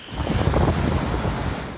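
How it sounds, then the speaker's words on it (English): A loud, dense roar of violent Hurricane Irma wind in Puerto Rico with gusting surges and churning rumble, continuous and close, with no voices. "the strongest winds in a century lashed Puerto Rico"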